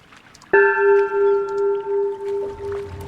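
Bell in the Underground Blossom video game struck once, a sudden clear metallic ring that sustains and slowly fades over a few seconds with a wavering resonance.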